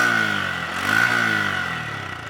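A Honda Hornet 125 motorcycle engine idles close by, a steady harmonic burble with a slight swell in revs partway through, heard alone.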